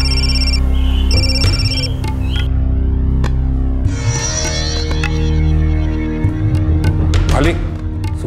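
A telephone rings in repeated electronic bursts over a steady hum, followed by busy tonal sounds and clatter.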